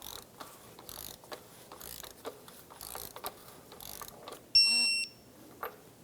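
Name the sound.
torque wrench tightening oil cooler center bolt, Infiniti G35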